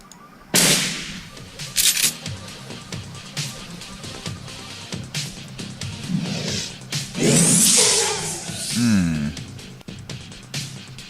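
Gunfire in the turn-based video game Shadowrun Returns, a few sharp, loud shots and impact bursts spaced apart among swooshing game effects, with brief talk.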